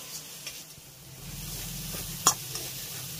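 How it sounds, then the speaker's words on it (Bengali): Spices and chili flakes frying gently over a low flame, with a soft, steady sizzle and a few faint stirring clinks; one sharper scrape or knock of a utensil on the pan near the end. "এবার আমি এই মশলাগুলোকে লো ফ্লেমে হালকা করে একটু ভেজে নেব"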